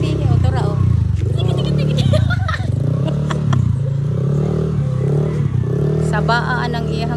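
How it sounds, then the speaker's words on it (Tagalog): A motorcycle engine drones and revs steadily nearby in an outdoor neighborhood, loud and continuous, with people talking over it throughout. "Sabaan ang iyahang motor oy"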